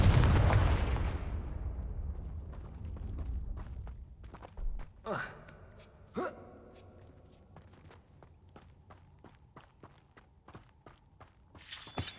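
A Confringo fire spell blast in Hogwarts Legacy: one loud fiery burst that fades into a long decaying rumble, followed by several sharp thumps and crackles, with a voice briefly heard.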